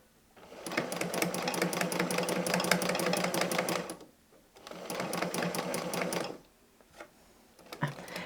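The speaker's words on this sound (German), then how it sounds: "Wir haben einen Zickzackstich eingestellt und wir haben den Transporteur versenkt. Und nun quilten wir einmal um alle Elemente herum." A sewing machine with the feed dogs lowered runs a zigzag stitch, quilting around the appliqué pieces of a chameleon patch. It gives two rapid rattling bursts separated by a short pause, then a few faint taps.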